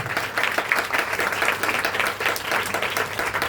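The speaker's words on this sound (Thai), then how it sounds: "ขอเสียง ปรบมือดังๆให้ท่านรัฐมนตรีซึ่งไม่ได้มา" Steady audience applause fills the hall at a Thai public gathering, a dense even patter of many hands continuing without pause.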